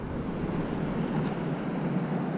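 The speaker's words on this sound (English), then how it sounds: "These waves are bigger than I thought they were going to be today." Large ocean waves break and rush in along the shore of Kapapa Island, a loud, continuous roar of surf mixed with gusting wind noise.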